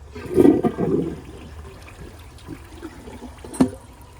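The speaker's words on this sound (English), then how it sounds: "Let's hold down the handle and see if we can get it through on another flush." A 2017 Glacier Bay high-efficiency toilet flushes with its handle held down, opening in a loud close rush of water that quickly settles into a long gurgling trickle, with a brief knock near the end.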